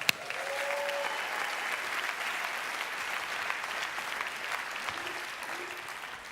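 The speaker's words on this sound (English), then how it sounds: "give them a big round of applause" An audience at a church leadership gathering session applauds continuously, a dense, even wash of clapping that holds steady at moderate loudness, with a brief sharp sound at the start.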